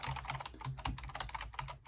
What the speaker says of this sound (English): So this sort of has a clicky sound to it.